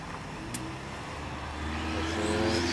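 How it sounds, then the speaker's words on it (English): A car approaches and passes nearby, its engine hum and tire noise swelling gradually over a quiet outdoor background. "Wait till this car passes."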